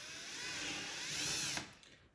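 A drill spins a small reamer into wood for a joinery job, a high whirring bite that rises slightly in pitch, holds for about a second and a half, then cuts off and winds down.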